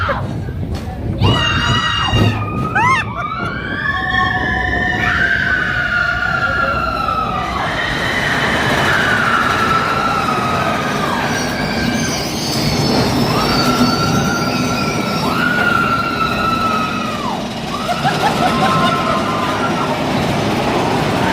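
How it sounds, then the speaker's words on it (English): Disneyland mine train ride rattling along its rails, a loud continuous rumble with repeated wheel squeals and screeches, riders' shouts and crowd noise mixed in throughout. "It's gonna be a loud train ride."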